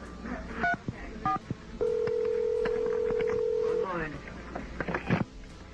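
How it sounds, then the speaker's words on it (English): A telephone handset is picked up on a recorded, FBI-tapped line at the Waco coroner's office. A click is followed by a steady dial tone held for about two seconds, then a quick series of touch-tone dialing beeps. "You can hear him pick up the phone and dial"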